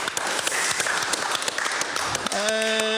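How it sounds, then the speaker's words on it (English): An audience at a conference gives a final round of applause for the speakers, dense and loud clapping that cuts off as a voice begins speaking. "one last round of applause"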